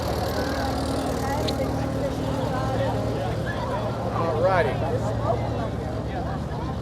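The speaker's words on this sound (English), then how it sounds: "More tractors coming." Old Allis-Chalmers tractors rolling past in a small-town parade, a steady low engine drone with a continuous hum under crowd chatter and people talking nearby.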